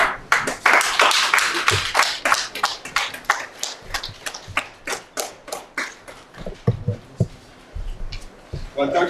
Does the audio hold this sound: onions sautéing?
no